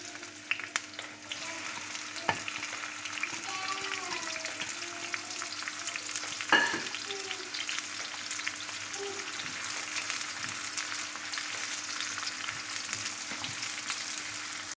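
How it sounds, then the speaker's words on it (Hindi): Onions fry in hot ghee with a soft, steady sizzle and crackle that carries on throughout. A few faint clinks and background sounds sit under it, with no talk. "मैं प्याज ब्राउन करूँगी"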